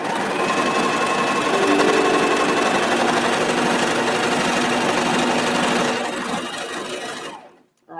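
A serger runs loud and close in a steady, fast mechanical hum while sewing and gathering fabric, holding an even drone for several seconds before slowing and stopping near the end.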